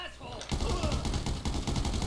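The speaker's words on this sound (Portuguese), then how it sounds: "Eita, tiros lá embaixo, tiros lá embaixo" Rapid automatic gunfire in GTA V during a raid on Michael's house, a loud burst of close shots starting abruptly after a brief quiet moment, with a voice underneath.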